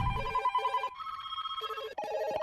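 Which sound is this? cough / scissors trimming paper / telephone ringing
telephone ringing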